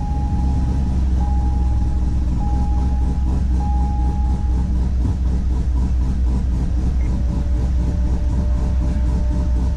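A C6 Corvette roars at full throttle during a backup dyno pull in competition driving mode, a loud, sustained engine drone with steady mechanical rumble and a faint whine throughout, close and unbroken, with no speech.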